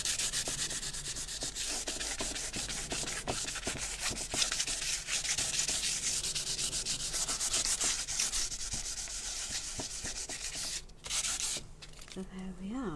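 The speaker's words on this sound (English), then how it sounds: "I've got wet and dry sandpaper here, so I'm picking up and getting a slurry of excess paint as I" Wet and dry sandpaper rubs continuously against a painted interior surface, lifting off excess paint as a slurry in steady, close scratchy strokes that pause briefly near the end.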